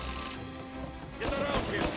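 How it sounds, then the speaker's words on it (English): Gun reloading in Mafia: Definitive Edition, a few mechanical clicks and metallic clacks of a magazine and action in quick succession over background game noise. "Gotta reload!"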